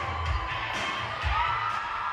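A crowd of people cheers and shouts at a firefighter calendar launch night at the Grizzly Rose, a continuous roar of voices with whoops rising and falling, fairly loud and close.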